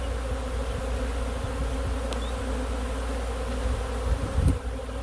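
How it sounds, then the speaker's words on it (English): A swarm of aggressive honeybees drones around an opened hive, a dense continuous buzz close by with a few louder individual passes near the end. "in the course of me trying to check this hive, they're becoming so aggressive."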